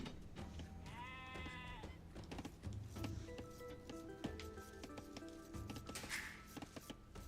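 Sheep bleat in the strategy game Age of Empires II in quiet countryside, with a few short bleats mixed with clicks, rubbing sounds and soft game music.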